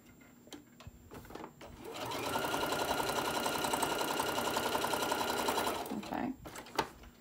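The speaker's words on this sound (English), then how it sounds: "Okay, so now I'm gonna sew the other side." A sewing machine stitches a seam along fabric for a bowl koozie, running steadily for about four seconds after brief handling noises, with quiet clicks before and after.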